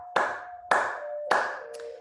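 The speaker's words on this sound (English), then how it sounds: "The next time I'll clap." Three sharp, close hand claps land at an even pace during a breathing exercise class, each one a crisp snap with a short ringing room tail, and no voice over them.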